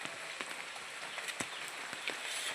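Steady heavy rain patters softly on a flooded house, a dense hiss dotted with occasional sharper drops, fairly quiet and with no voices.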